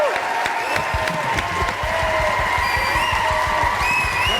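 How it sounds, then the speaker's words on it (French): Applause and cheering from an audience welcoming a comedian on stage, a loud continuous crowd roar with clapping, layered under music and tonal sounds, with no clear speech. "Un tonnerre d'applaudissements, s'il vous plaît, pour l'excellentissime Ramatoulaye."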